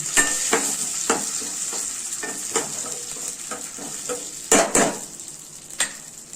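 Khorkon leaves fry in a pan for a poppy-seed paste dish, a soft sizzle under repeated scraping and tapping stirs of a utensil against the pan, with a few louder clatters, close and without talk.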